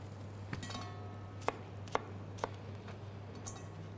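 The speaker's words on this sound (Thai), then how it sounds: "พริกหยวกทำเช่นเหมือนกันเลยนะคะหั่น เอาเม็ดออก" Knife chopping bell pepper on a cutting board, a few sharp, distinct knocks spaced about half a second apart, fairly quiet over a steady low hum.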